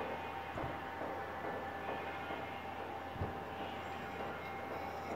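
Roller coaster cart rolling on rails in the VR horror game Rush of Blood, a low continuous rumbling drone with a couple of soft thuds, fairly quiet and steady throughout.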